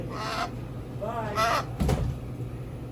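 A large bird in a store, able to mimic some talk, gives a few short harsh calls, close and moderately loud, with people's voices around it.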